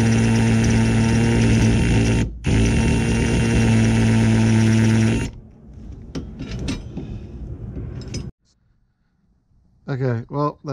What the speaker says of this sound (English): that drilling wasn't quite working